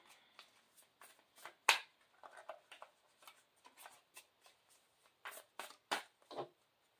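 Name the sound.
shuffling large tarot cards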